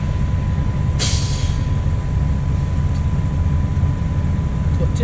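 A dump truck bed tips out ten yards of concrete over a steady engine rumble, with a sharp burst of air hiss near the start.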